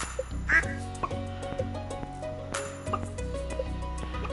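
Ducks on a Stardew Valley farm quack in a short, sharp burst, then a few more quacks follow over soft, plinking game music.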